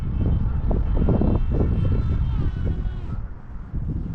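Electric motor of a Zohd Dart RC plane whines under throttle on a windy slope, the buzz steady and fairly near amid wind buffeting, then easing slightly near the end.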